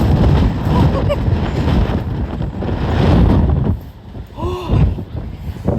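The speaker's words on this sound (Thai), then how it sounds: "อย่าล้อเล่นกับลมเมืองนอกนะคะ" Strong coastal wind on a tower in Denmark roars and buffets the microphone in a steady low rumble, with a voice coming through briefly near the end.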